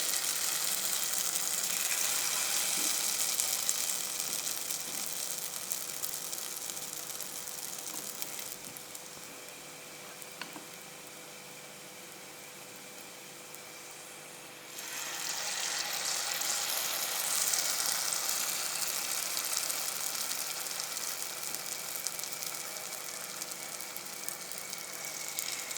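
Jamaican saltfish fritters hiss and sizzle in hot oil over medium heat, a steady close frying noise that dips quieter midway as batter goes in one at a time, then swells again.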